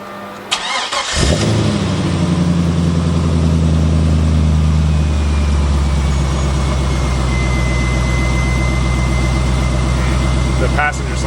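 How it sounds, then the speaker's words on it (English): A C5 Corvette engine cranks and catches, then settles into a loud, steady close-up idle that runs on evenly to the end. "let me turn the car on"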